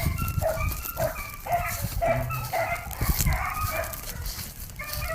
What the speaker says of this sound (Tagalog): Kaingay ng mga aso ko na yun.